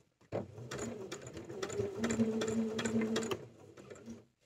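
A sewing machine runs steadily for several seconds stitching a bag lining about 5 mm from the bottom edge, a close, even whirring hum with rapid needle ticks, stopping cleanly at the end.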